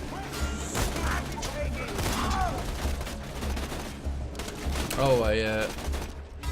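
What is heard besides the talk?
gunfire in video game Borderlands 2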